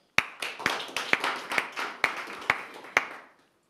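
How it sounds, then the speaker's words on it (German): An audience at a political event claps for Dr. Hans-Ulrich Rülke in slow, even unison, about eight sharp, evenly spaced claps that echo briefly before stopping. "Den größten, den herzlichsten und den wichtigsten Applaus bitte ich demjenigen zu geben"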